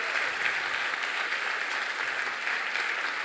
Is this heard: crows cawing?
no